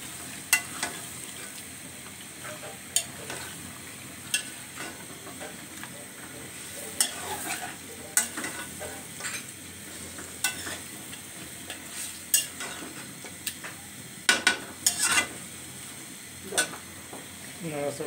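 Bay leaf and cinnamon sautéing in a pan with a soft, steady sizzle, broken by repeated scraping knocks of a spoon stirring against the metal, some louder clacks near the end.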